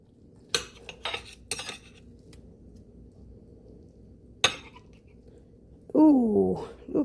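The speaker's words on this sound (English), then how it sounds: "Grab my knife. My fork." Knife and fork clinking and scraping on a plate of eggs, avocado and tomatoes, a few sharp metallic taps early on, then a longer scrape near the end, close and otherwise quiet.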